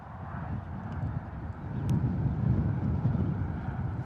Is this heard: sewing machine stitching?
no